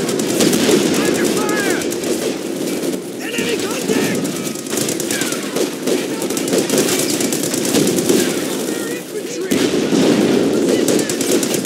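Dense, continuous gunfire with machine-gun bursts and explosions in the Company of Heroes 2 Ardennes Assault strategy game, a loud battle din filling the whole stretch with soldiers' voices shouting over it.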